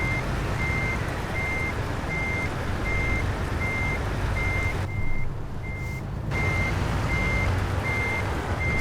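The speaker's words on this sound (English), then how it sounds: "Certainly a tight place to reverse into." Steady reversing beeps from a truck in American Truck Simulator, evenly spaced tones repeating over a constant loud engine rumble, with a brief break midway and no talk.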